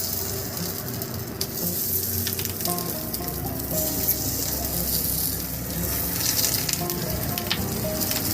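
Mackerel fries in oil on a banana leaf, giving off a steady, close sizzle with a crackling hiss that carries throughout, with a few faint clinks rising above it and no voices.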